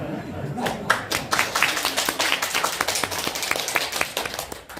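Scattered clapping from the audience at a South Korean presidential candidates' policy debate, a fairly close, uneven patter of individual claps over a few seconds.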